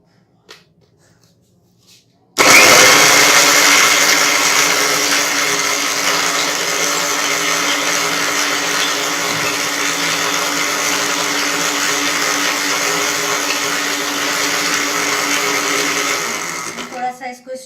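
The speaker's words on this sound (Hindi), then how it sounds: "अब हमने इन तमाम चीज़ों को एक साथ इसमें ग्राइंडर में डालकर और अच्छा" An electric grinder blends pasanda masala spices, starting abruptly after a couple of seconds of near silence and then running as a loud, steady, buzzing whir for about fifteen seconds before cutting off.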